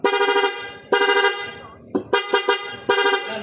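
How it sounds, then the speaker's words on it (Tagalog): Loud aftermarket combo horn on a Sniper 155 motorcycle, blaring in two long blasts and then a rapid string of short honks, close and dominant. "Then, loud horn. Rapid with combo."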